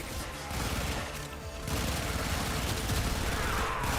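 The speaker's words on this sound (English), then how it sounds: "Be a productive member of the squad and do the bullet shooting thingies that Warframe is good about." Dense, continuous rattling gunfire from the video game Warframe, with several weapons overlapping in a steady, loud barrage for several seconds and no clear pauses.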